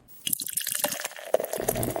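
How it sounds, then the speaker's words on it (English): Beer pouring from a can into a glass, a close, bubbly gurgle and splash with dripping, fizzing detail that builds into a steady fill, no one speaking. "So as I'm pouring this into my glass"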